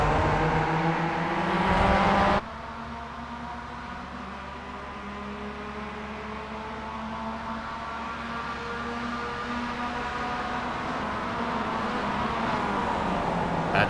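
Mazda race cars in a Mazda Cup sim race at Circuit de Spa-Francorchamps drone with steady, continuous engine tones, louder for the first two seconds and then holding a constant, close engine hum.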